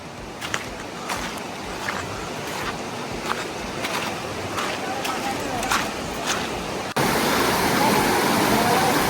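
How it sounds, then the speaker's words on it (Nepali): A river with a strong, heavy current surges loudly and steadily, a dense continuous roar of rushing water that swells slightly near the end. "यहाँ अलिक हेभी फोर्स खोला फोर्स ज्यादा छ"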